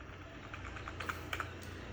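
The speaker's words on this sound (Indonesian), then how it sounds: "ini ketika saya tekan tombol pada keyboard huruf X" Keys pressed on a computer keyboard while operating a 3D OpenGL program, a handful of faint, close clicks spaced irregularly over steady low room hum, with no talking.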